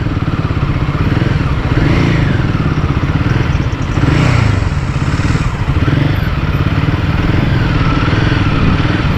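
A Royal Enfield Himalayan motorcycle rides along with a loud, steady engine thrum and low rhythmic thumping, wind rushing over it, the pitch rising and falling slightly as the rider holds a moderate pace.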